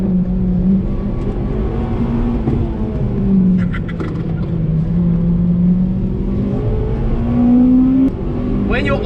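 An older car driven hard at the limit, its engine revving and droning loudly throughout with rising and falling pitch as it accelerates and lifts, close and continuous.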